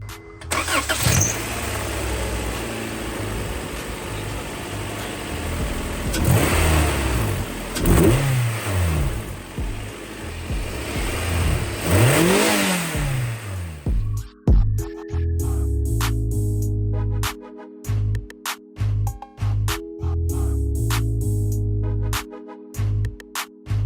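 A Honda Prelude engine fitted with new DC headers starts and revs repeatedly, rising and falling in loud bursts, then settles into choppy, pulsing idle with sharp blips, close to the exhaust.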